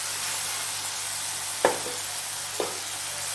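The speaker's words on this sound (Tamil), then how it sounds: "இது சீக்கிரமாக வதங்குறதுக்காக இதை நல்லா கிளறிட்டு" Prawn masala sizzles steadily in a hot pan, two sharp scraping stirs cutting through the constant frying hiss at close range.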